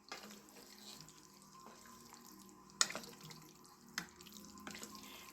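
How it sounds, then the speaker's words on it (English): Goulash stirred in a pot, giving soft wet scraping and sloshing with a couple of sharper clanks of the spoon against the pot, close by and without speech. "Let's stir it."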